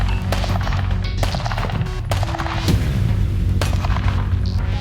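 Loud gunfire from a tactical two-gun shooting match stage, with a dense string of sharp, booming shots fired in quick bursts and close range, and echoing reports filling the whole stretch.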